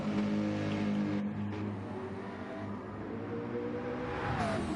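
Porsche race car roaring past during qualifying at the Nürburgring 24 Hour, a loud sustained engine note that rises and sweeps by, mixed with other car noise and track ambience.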